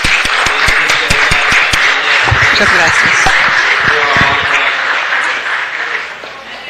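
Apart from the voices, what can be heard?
applause at a city council meeting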